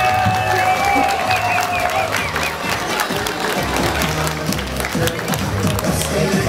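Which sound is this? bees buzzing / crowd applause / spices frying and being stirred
crowd applause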